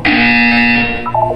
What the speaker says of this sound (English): You will hear a buzzer. When you hear the buzzer, look down at the floor.